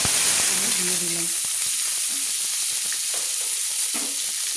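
Chopped garlic and onion hit hot oil in a pan for a fish-head curry with beans, potato and eggplant, giving a steady broadband sizzle with a brief voice-like tone early on and occasional stir clinks.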